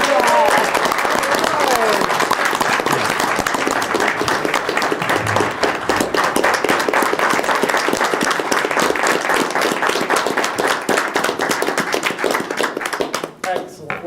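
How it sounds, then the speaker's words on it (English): An audience at a public school board meeting applauds, with loud, dense clapping and hand slaps sustained for several seconds before fading out near the end, and a few voices murmuring underneath. "join me in a round of applause and recognition for"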